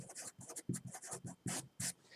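Quick pen or marker strokes writing out a math formula, a rapid series of short scratchy bursts, close and quiet with no talking.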